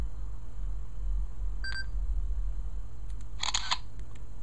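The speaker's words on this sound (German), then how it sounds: "Wir schießen einfach Fotos von der Verpackung und gucken mal, wie so die Qualität ist." A Sony Ericsson Satio phone camera photographing product packaging gives a short electronic beep, then about a second later a brighter burst of shutter-like clicks, heard alone over a steady low hum.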